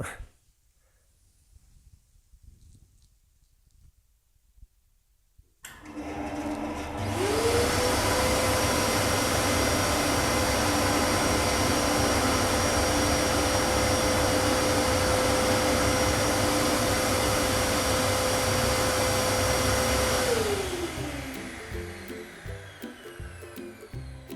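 A workshop dust collection vacuum starts up after a quiet stretch, roaring loud and steady for about fifteen seconds with a rising whine, then winds down near the end.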